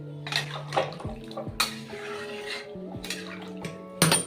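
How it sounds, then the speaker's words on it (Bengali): Water splashes and trickles into a pan of cucumber and shrimp curry, with clinks of metal against the pan and a few sharp pouring bursts over a faint background hum. "এবার আমি জল দিয়ে দেবো"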